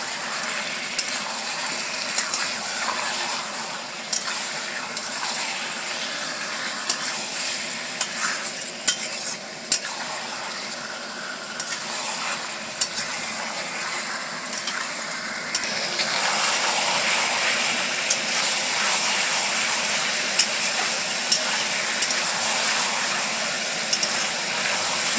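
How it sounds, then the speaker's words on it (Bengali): Chicken being stirred and fried with onions in a pan, a continuous close sizzle broken by repeated scraping and clicking spatula strokes throughout, with no talking. "এবার এই পেঁয়াজের সাথে এইটাকে ভালো করে মিশিয়ে দেবো।"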